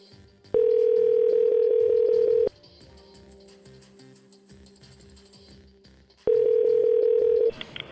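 Telephone dial tone during a live prank call: a loud steady tone sounds for about two seconds, breaks into a quieter stretch with faint background noise, then returns briefly near the end, with no talking.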